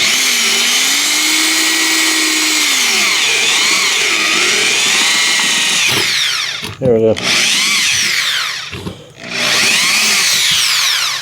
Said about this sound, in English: I can push really hard down on this drill, and the motor has no problem whatsoever to keep going